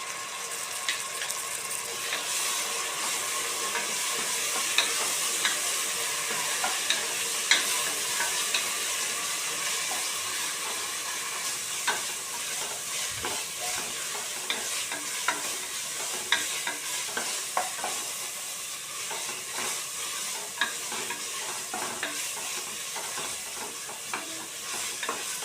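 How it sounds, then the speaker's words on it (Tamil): Ginger garlic paste frying and being stirred with onions in a pan for Sunday biryani, a steady close sizzle with scraping spatula clicks and stirring bursts throughout, no voices. "இப்போ இது கூட இஞ்சி பூண்டு பேஸ்ட்டு சேர்த்துக்கிறேன்"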